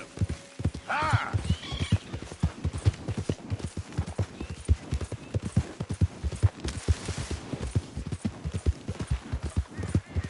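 Horse hooves galloping in Red Dead Redemption 2, a fast, steady run of loud clip-clop beats across the whole stretch, with a brief whinny near the start.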